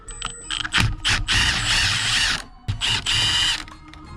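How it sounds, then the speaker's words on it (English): Ratcheting tool or power driver unscrewing the side screws holding a car steering wheel airbag, several close bursts of whirring, clicking mechanism separated by short pauses. "Now we're gonna go to the screws here on the sides, and we're gonna get this airbag out."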